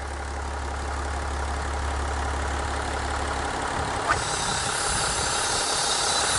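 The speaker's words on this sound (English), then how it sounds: "So here we have the engine on idle." A diesel engine idling, with a steady low rumble that changes to a rougher, more broadband running note about two-thirds of the way through, continuous and close, with no talking.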